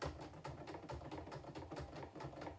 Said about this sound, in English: Just bashing on the keys.